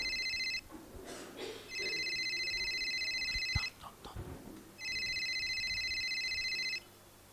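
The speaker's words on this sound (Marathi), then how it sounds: "अधिराचा फोन आहे." A telephone rings with an incoming call in three separate electronic ringing bursts, each lasting about one to two seconds, with short gaps of quiet room noise and soft knocks between them.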